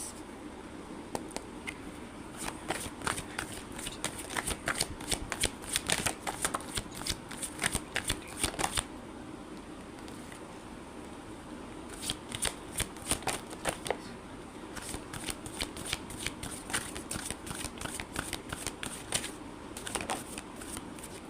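Tarot cards are shuffled up close, quiet, crisp riffling and flicking in repeated bursts separated by short pauses.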